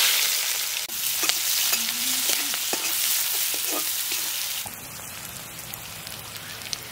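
Onion and green chilli fry in oil left from frying fish, a dense, bright sizzle with occasional stirring clicks and scrapes, close and steady, quieting slightly toward the end.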